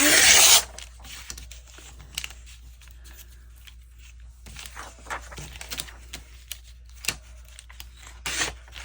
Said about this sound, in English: we're just going to cut this down a little bit